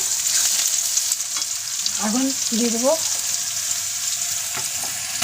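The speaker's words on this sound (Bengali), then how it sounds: "দেখুন পেঁয়াজটা ভাজা হয়ে গেছে" A loud, continuous sizzle of onions frying in a pan, with scraping stirs and a brief voice speaking over it.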